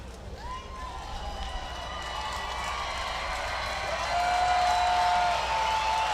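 A minor league baseball stadium crowd cheers and claps as the game nears its final strike, a broad steady roar that swells toward the end, with a few whistles.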